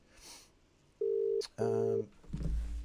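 Telephone tones sound in short steady beeps, one after another, followed by a low rumble, faint and close.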